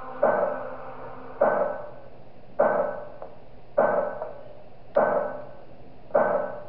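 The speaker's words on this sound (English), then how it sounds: "Why do I hear banging? Is someone trying to break in the door?" Heavy banging on a locked door in the video game Five Nights at Wario's, six loud, evenly spaced thuds about a second apart, each with a short ringing decay, with no voices.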